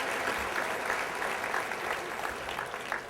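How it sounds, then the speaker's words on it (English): Applause from a conference audience for two stage volunteers at a mentalist's mind-reading show, a steady dense wash of clapping that carries on evenly from start to finish. "Let's give them both a nice round of applause for helping."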